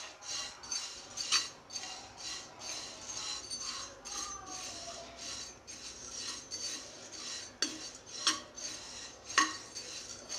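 Poha dry-roasted in a pan while being stirred produces faint, repeated metallic scraping and light rattling strokes in an uneven rhythm, fairly quiet and close, with no voices.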